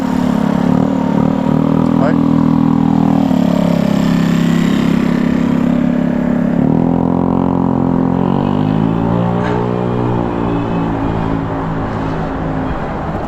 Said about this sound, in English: The scooter guys beeping their horns while they're driving off because they were on camera.